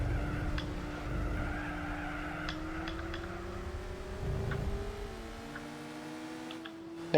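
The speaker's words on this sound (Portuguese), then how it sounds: "Vamos frear aqui." In Gran Turismo 4, a car brakes and its tires skid and squeal for several seconds over a steady engine drone, with brief ticking clicks and no talking.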